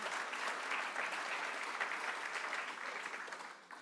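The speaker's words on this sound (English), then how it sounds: "So if you could just give him a clap, and I'll tell him we applauded him tonight" An audience at a book gala night applauds a donor with dense, continuous clapping that holds steady, then thins and fades toward the end.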